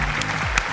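Studio audience at the Bangladeshi comedy show Ha-Show Season 07 claps in a dense, steady burst, brief and fairly loud, with a faint low musical tone underneath.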